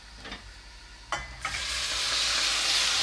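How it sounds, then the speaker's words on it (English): Tomatoes hit hot oil in a pan for menemen, the Turkish vegetarian egg breakfast. After a couple of soft clatters, a loud, close sizzle surges and holds steady to the end. "I can go ahead and add my tomatoes."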